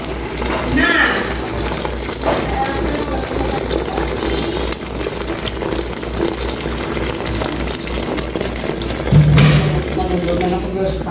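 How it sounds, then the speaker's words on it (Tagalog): Water pours and splashes steadily into a pot under a low mechanical hum, with a person talking over it. "Lagyan natin ng maraming tubig."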